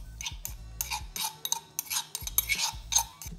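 Vinegar and salt mixture being stirred into cut plums for plum chow, giving a close series of clinking, scraping utensil strokes against a bowl in an uneven rhythm, with no talking.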